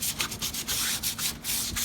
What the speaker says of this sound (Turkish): sandalyemizi boyamadan önce zımpara yapıyoruz